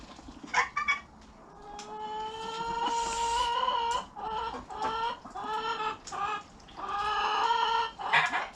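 A chicken clucks and squawks repeatedly in loud, close, drawn-out calls with short breaks between phrases, a new hen among farm birds with no talking.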